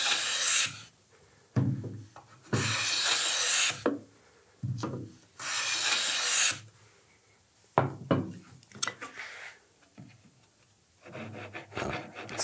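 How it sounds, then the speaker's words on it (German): A hand plane taking shavings off the edge of a wooden board, heard as several long, loud rasping strokes with short pauses between them, followed by lighter scraping and knocking, no talking. "Aber ich nehme noch ein paar Hobelspäne ab"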